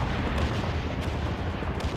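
Dense, continuous battlefield gunfire and artillery booms from the World in Conflict Soviet Assault real-time strategy game, a loud, steady roar of overlapping shots with no clear gaps.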